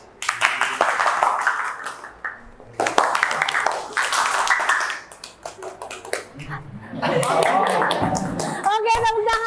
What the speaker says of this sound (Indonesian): kita main games terlebih dahulu. Nah, namanya tepuk tangan bernada.